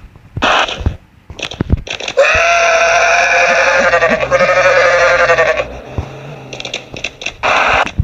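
A goat in Goat Simulator lets out one long, loud, strained bleat lasting several seconds. Shorter harsh game noises come before and after it.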